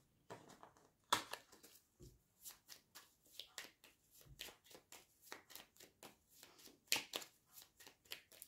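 Lenormand cards shuffled by hand for a card reading, a quick series of close, crisp riffles and flutters with soft taps between them, quiet and without any talking.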